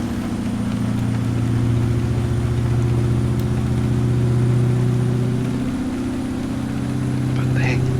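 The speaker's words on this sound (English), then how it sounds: "the engine sound is a lot quieter on this truck, or on this engine" A truck engine in American Truck Simulator, a Peterbilt 389, drones steadily at idle-to-cruise with a low, quiet rumble throughout, while someone talks over it.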